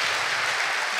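Dense, steady applause from a concert hall audience greeting a crossover symphony orchestra at a Korea University concert, loud and continuous throughout with no voices over it.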